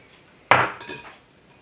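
An egg cracks into a bowl while gluten-free Ranger cookie batter is being mixed: one sharp, close crack, then a softer wet plop as the egg drops in. No one speaks.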